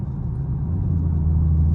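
Camaro SS engine rumbling low and steady while driving, a close, moderate drone with a slight rise in level toward the end and no talking.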